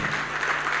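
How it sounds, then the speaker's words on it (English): Audience applauding young participants at a virtual national student anti-corruption awards ceremony, a short dense burst of steady clapping with no voices over it. "So please join me to applaud all the young people"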